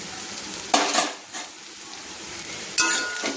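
Spiced banana flower filling with garam masala and green chilli is stirred in a hot pan, giving a soft sizzle with a few brief scraping strokes of a spoon against the metal.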